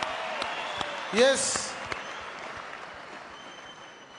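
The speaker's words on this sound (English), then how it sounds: "Let's clap hands for Brethren Makarurama." A church congregation claps for Brethren Makarurama after his pledge, a soft, fairly distant, even patter of hands with a short louder swell early on and a brief spoken reply.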